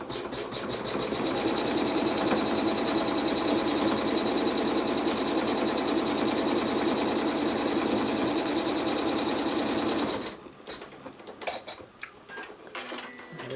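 An embroidery sewing machine stitches a quilt block in a fast, even mechanical whir with a steady high tone, close and continuous for about ten seconds before stopping, leaving light handling noises.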